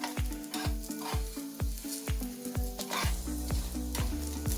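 Cloves, black peppercorns and stone flower spices roast in a pan for a village-style mutton curry masala, with dry sizzling and a steady run of sharp spatula scrapes and taps against the pan, close and clear, no voices.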